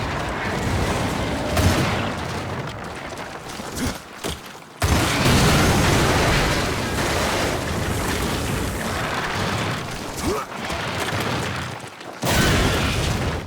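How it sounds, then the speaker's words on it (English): Loud, continuous blasts and rumbling booms as objects and structures are blown apart in the game Lost Planet, a dense barrage of explosions with brief dips between heavy bursts and no voices. "the environments are partially destructible, and you can blow up and destroy different objects and structures"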